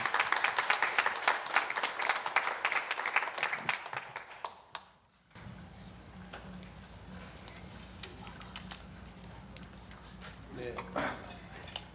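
Church congregation clapping during a Sunday worship service to welcome a missionary preacher; fairly loud, dense applause for about five seconds, then it stops abruptly and a low hum with faint room sounds remains.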